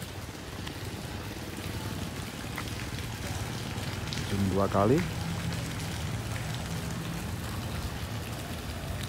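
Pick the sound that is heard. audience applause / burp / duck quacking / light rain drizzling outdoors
light rain drizzling outdoors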